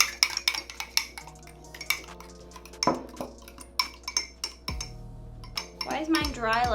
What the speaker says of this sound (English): We're using forks. You gotta stir really fast.